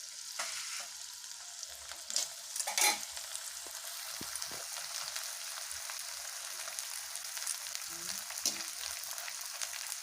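Edible gum (gond) frying in hot ghee for laddoos, a steady close sizzle thick with scattered crackles and small pops, a brief stirring clatter near the start, with no voices over it.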